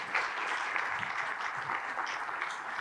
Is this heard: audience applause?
yes